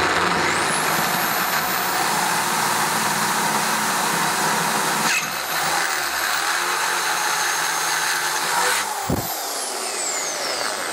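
A power drill with a 10mm bit bores a hole for a turbo oil return on a single-turbo Toyota Supra build, a loud sustained grinding whine with short dips partway through.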